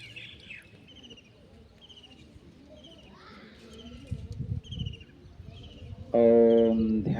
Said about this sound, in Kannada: ಹಕ್ಕಿಗಳ ಚಿಲಿಪಿಲಿಯ ಶಬ್ದ ಹಾಗೂ ಇನ್ನಿತರ ಶಬ್ದಗಳನ್ನು ಆಲಿಸ್ರಿ